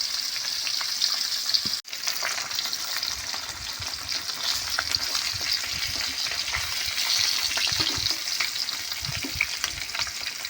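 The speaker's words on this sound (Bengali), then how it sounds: "মাছগুলো বেশ ভালো করে লাল লাল করে ভেজে নেব।" Katla fish pieces frying in hot oil in a pan, a continuous close crackling sizzle with bursts of popping and one brief handling knock near the start.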